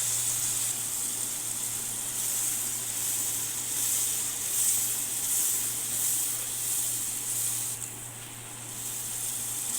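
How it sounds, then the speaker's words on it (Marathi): Masala paste for black chana masala frying in oil, a steady close sizzle with bright hiss that holds evenly for the whole stretch, briefly dipping near the end, with no talking. "यानंतर यामध्ये तयार वाटण टाकून ते तेल सुटेपर्यंत परतवूया"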